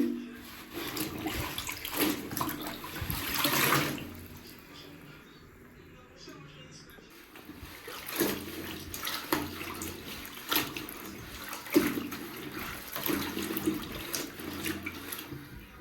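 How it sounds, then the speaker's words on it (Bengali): Clothes being washed by hand under a running tap, with water splashing and rushing in uneven bursts, a quieter lull midway, and close handling noise. "এখন আমার কাপড় চোপড় ধুতে হইতেছে।"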